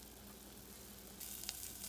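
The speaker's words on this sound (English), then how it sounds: "So now I am frying my hot dogs because I like them crispy" Hot dogs fry crispy in a pan, giving off a soft continuous sizzle with a brief crackle near the end, faint and steady with no talking.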